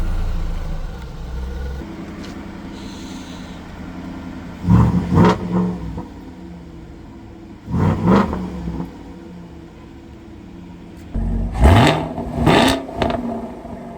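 The exhaust of a 1967 Plymouth Barracuda, heard as a steady low idle broken by three loud revving bursts that rise and quickly fall away, close by.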